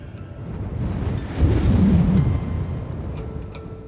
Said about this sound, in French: Le vent hurle dans leurs oreilles et rend la communication compliquée.